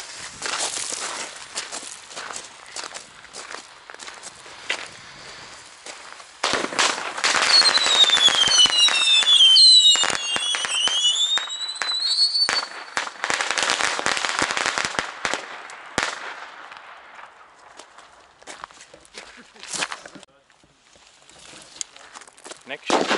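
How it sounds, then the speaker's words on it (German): Another New Year's Eve firecracker chain bursts in a fast, rattling string of sharp bangs that carries on for many seconds, with whistling sparks over the middle part and scattered pops trailing off at the end. "Noch eine Knallkette."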